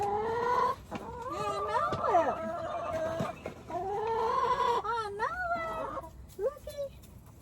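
Chickens cluck and chatter close by in a backyard flock, their rising and falling calls coming in short irregular bursts while a person talks over them.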